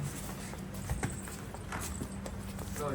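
A cow walks at a cattle sale, its hooves clopping in a few distinct, fairly close steps over a steady background hum.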